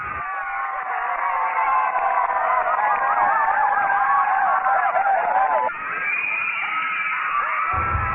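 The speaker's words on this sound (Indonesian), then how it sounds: "Terdengar sorak-sorai kemeriahan para pendukung." Supporters at a women's outdoor futsal match held for a Korpri anniversary celebration in Semarang cheer and shout continuously, a loud, bright crowd roar with whistling, high-pitched voices rising and falling throughout.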